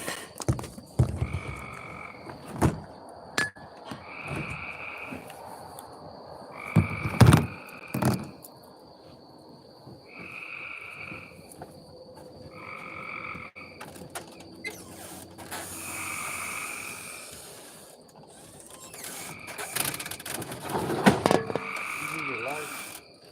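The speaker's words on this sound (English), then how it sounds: "the frogs is out tonight" Frogs croak outdoors at night in repeated short bursts against a dark, quiet background, with occasional thumps and scrapes nearby and a voice speaking faintly now and then.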